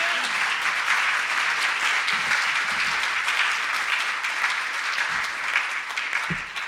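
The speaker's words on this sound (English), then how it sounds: "give him a big round of applause" Audience at a masterclass event applauds as a speaker is called up to the stage, sustained full-room clapping that holds steady throughout and thins slightly near the end.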